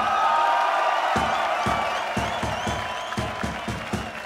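A crowd of football fans at a title celebration claps in a steady rhythmic beat, the unison claps rising out of a broad wash of cheering that slowly fades.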